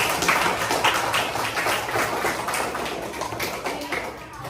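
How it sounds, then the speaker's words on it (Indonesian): Students in a classroom clap their hands together in a dense, uneven patter that gradually thins out, with some voices mixed in. "Yuk tepuk tangan untuk kita semua"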